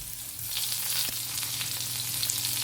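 Curry leaves hit hot oil with ginger and green chili, producing a close, steady sizzle with small crackling pops throughout, fairly quiet and without talk.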